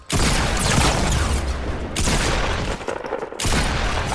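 Dense, loud bursts of gunfire in Fortnite, sustained rapid shots with two short pauses, filling the whole stretch without any talk over it.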